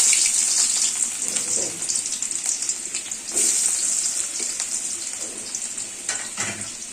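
Onions sizzle and crackle in a hot pan with oil, a steady bright frying hiss close by, stirred now and then with faint clatter and no clear talking.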